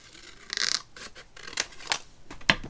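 Scissors cutting paper for a grunge journal, a few short close snips and rustling scrapes at uneven intervals, fairly quiet with no voices.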